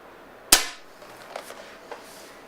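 A single shot from an Air Arms S410 TDR .22 air rifle: one sharp, close crack followed by a few faint clicks and knocks.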